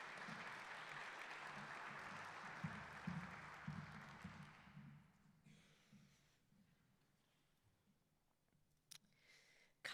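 Faint applause from a crowd at a Martin Luther King keynote event fades away over about five seconds, leaving near silence with a few soft clicks and breaths.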